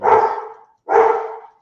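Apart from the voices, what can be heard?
dog barking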